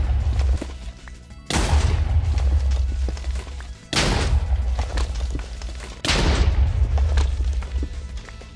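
Three heavy TNT blasts in Minecraft break through bedrock, each a sudden loud boom followed by a long rumbling decay, spaced about two to two and a half seconds apart.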